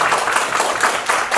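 Audience at a Korean women's job-success talk concert clapping together, a short, loud burst of dense applause close to the microphone.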